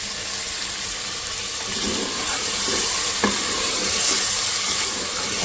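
Meat browning in a pot with garlic, ginger and salt for mash daal gosht, a steady, fairly even sizzling hiss with a couple of faint soft knocks.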